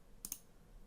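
Two quick, faint key clicks in close succession from a calculator being pressed, alone in a quiet room.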